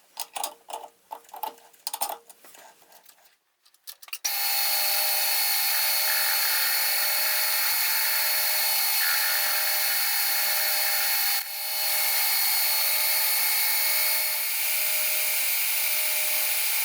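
A metal lathe cutting bars held in a 3-jaw chuck, a loud continuous whining drone with a tonal ring that runs steadily for over twelve seconds after a few seconds of setup clatter.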